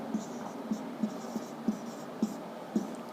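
A pen scratches out a maths equation on paper in quick, rhythmic strokes, soft and close, with a faint background hum.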